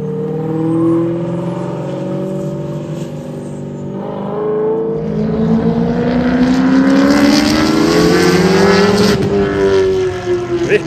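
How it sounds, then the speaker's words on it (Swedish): A Corvair fitted with a mid-mounted supercharged five-valve Audi V8 and open exhaust cutouts races along a track, its engine wailing loudly through rising revs and gear changes, growing louder as it passes close by. "David Gunnars Corvair med mittmonterad Audi V8 med kompressor och femventilsteknik ut på banan"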